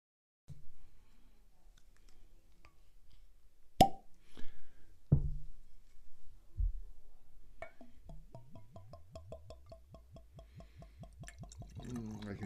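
A bottle of Crypt Keeper whiskey, finished in a sherry cask, is handled with a few sharp clicks and a soft pop as the cork comes out, then liquid glugs in a quick rhythm, close and quiet.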